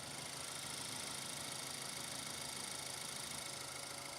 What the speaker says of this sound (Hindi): ये पेट्रोल इंजन की साउंड है